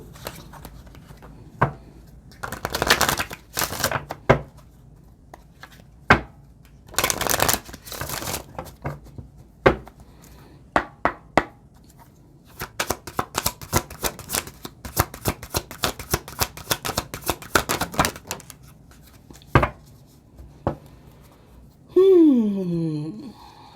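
A deck of tarot cards is shuffled by hand in repeated riffling bursts, close and crisp, with pauses between rounds and a brief voice near the end.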